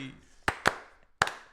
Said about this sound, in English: I'll just go back and sync all of it to those claps